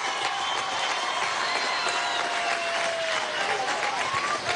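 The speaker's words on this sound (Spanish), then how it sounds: "un fuerte aplauso para todos los deportistas que" A large audience applauds Olympic medallists from Rio 2016 at an official ceremony, loud continuous clapping and cheering with a few whistles rising over the crowd.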